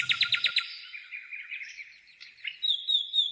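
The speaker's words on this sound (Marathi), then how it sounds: "त्याचा चिपचाप चिपचाप असा मधुर आवाज त्याची सहज ओळख करून देतो." Chirak bird calling, a quick run of sharp repeated chirps followed by thin warbling whistled notes, clear and fairly close with no other sounds.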